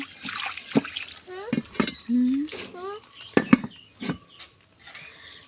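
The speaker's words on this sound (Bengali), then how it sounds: "কড়াই থেকে পানি দিয়ে দিলাম, দিয়ে কড়াইটা একটু ভালো করে ধুয়ে নিলাম।" A wok is rinsed and scrubbed with water, giving close, uneven splashes, trickles and metallic clanks, with chirping sounds in the background.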